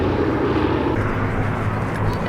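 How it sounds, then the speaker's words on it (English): B-17G Flying Fortress 'Sally B', a Second World War four-engine bomber, droning overhead at an airshow as it comes in to land, a steady loud engine roar with a muffled announcer's voice underneath. "B-17 coming in to touch down on the hard runway."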